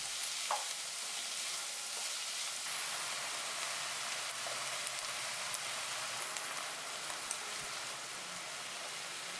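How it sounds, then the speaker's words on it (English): Diced apples fry in melted butter in a pan, giving a steady, dense sizzle that crackles continuously without a break, with faint stirring scrapes now and then and no talking. "Once all the butter melted, go ahead and add the diced apples."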